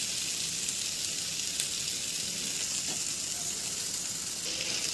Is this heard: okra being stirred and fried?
yes